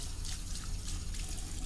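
Running water from a tap in the horror video game Fears to Fathom: Norwood Hitchhike, a steady, close, continuous splashing stream filling the short moment.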